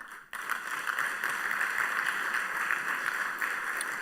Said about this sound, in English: give a very, very resounding applause to Chairman Manhil Lee